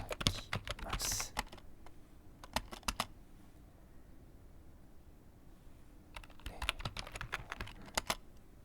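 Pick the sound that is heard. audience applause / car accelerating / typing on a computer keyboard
typing on a computer keyboard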